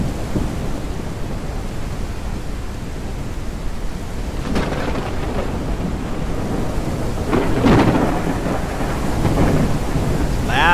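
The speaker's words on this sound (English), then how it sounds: "Oh, it's raining and" Video game (Mist Survival) thunderstorm: steady rain hisses throughout while thunder rumbles and cracks a few times, the loudest roll near the end.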